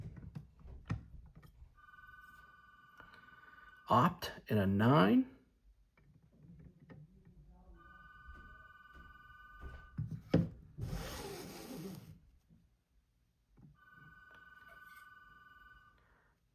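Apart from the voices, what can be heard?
telephone ringing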